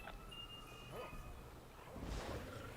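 Dogs bark and whimper in a video game, faint yips and whines over a quiet game soundtrack, with a player talking softly in the background.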